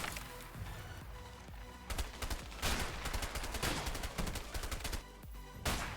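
Covering gunfire in the video game A Way Out, with rapid bursts of automatic weapons fire crackling repeatedly in close, loud volleys and brief pauses between them.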